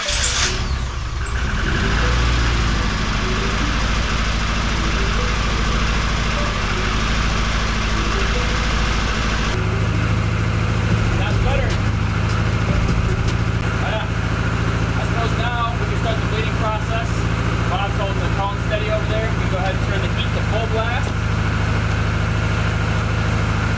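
A turbocharged Honda Civic engine turns over and catches, then settles into a steady, droning idle with a low rumble, while a person talks over it.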